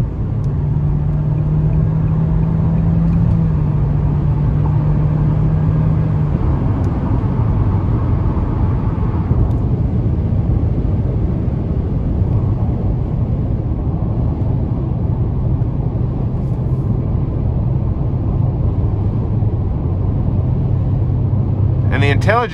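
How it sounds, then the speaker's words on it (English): A 2022 Nissan Kicks SV engine hums steadily from inside the cabin as light throttle is applied, a continuous low drone with road rumble that holds level throughout, its pitch shifting slightly midway. "gonna give it a little throttle here."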